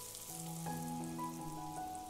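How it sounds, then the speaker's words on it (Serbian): Zucchini slices fry in oil in a pan, giving a soft, steady sizzle with faint crackles at low volume. "Tikvice okrećemo na drugu stranu i nastavljamo da pržimo još 3 minuta."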